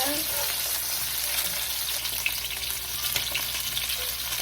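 Yellow croaker fish frying in a pan, a steady dense sizzle and crackle holding an even level throughout, close and alone with no talk.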